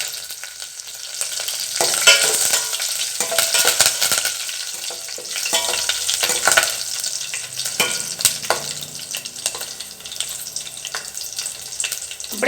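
Green chili and curry leaves sauté in hot oil, crackling and spitting in a bright, steady sizzle, with occasional spoon scrapes and stirs close up and no voices.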